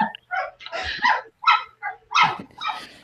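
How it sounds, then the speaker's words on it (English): A dog barks in its sleep, giving a string of short muffled woofs and whimpery yips in uneven bursts, close by and with quiet pauses between them. "Yeah, that's sleep barking."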